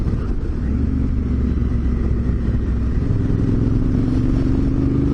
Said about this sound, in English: here comes oncoming traffic.